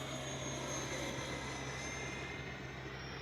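A Freewing A-4 Skyhawk 80mm electric ducted-fan RC jet flying, a steady distant whooshing whine that holds evenly throughout with a faint hum underneath.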